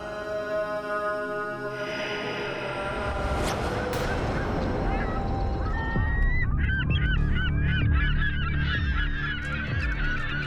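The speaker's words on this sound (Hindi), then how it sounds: "वो देखो, वहाँ पे पक्षी दिखाई दे रहे हैं।" Geese honking, a flock of calls building from a few scattered honks into a dense, loud chorus of overlapping squawks close by, with no speech in the clip.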